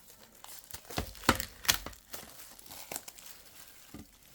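A glued-on sticker is pulled off a 4K steelbook's packaging in close, crinkly tearing and crackling bursts, with a couple of sharper rips in the middle before it tapers into lighter rustling.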